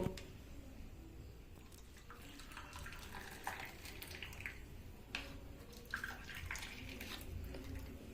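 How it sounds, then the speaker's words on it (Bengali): Homemade masala tea is poured into a cup, a faint, thin trickle with scattered drips and small clinks over quiet room noise, no talking. "এবার আমি চাটা কাপে ঢেলে নেব"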